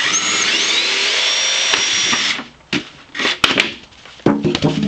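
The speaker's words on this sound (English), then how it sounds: "You drill a hole into this too. I guess I can do that now." A power drill whines steadily for a couple of seconds drilling a hole in a plastic jug, then stops, followed by scattered clatter and handling noises up close.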